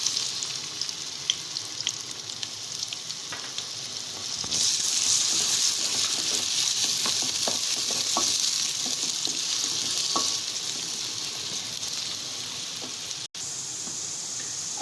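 Whole spices frying in hot oil give a dense, continuous sizzle that swells louder midway, with faint scraping and a brief dropout near the end.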